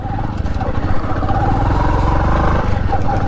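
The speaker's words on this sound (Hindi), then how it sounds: "अपनी बाइक यार सेल्फ नहीं लेती," A motorbike engine cranks on its electric self-starter and struggles to catch, a loud, continuous, rough, clattering drone that runs close throughout the whole stretch.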